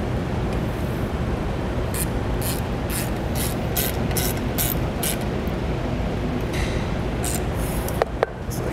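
A hand ratchet tightens the cap bolts on a trailer square jack, giving a steady run of about a dozen sharp, close clicks in regular bursts, ending with a couple of louder metallic knocks.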